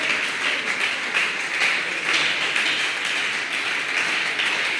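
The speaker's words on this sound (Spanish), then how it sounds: "Denles aplauso al Señor." Worshippers at a Spanish-language evangelical church service clap for the Lord, a steady, moderately loud crowd applause with loose rhythmic pulses running through it.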